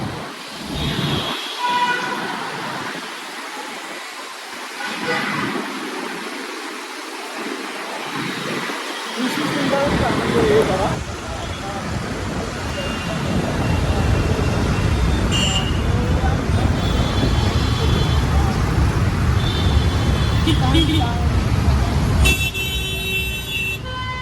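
Busy road traffic during a Ganesh immersion procession in Kandivali, Mumbai: a steady roar of engines and occasional horn toots grows louder after a quiet start, with voices talking throughout.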